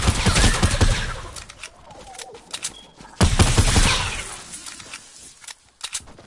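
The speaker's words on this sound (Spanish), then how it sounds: "escuché disparos" Bursts of rapid gunfire in a video game crackle loudly and close, with a long volley at the start, another heavy burst midway, and scattered shots near the end.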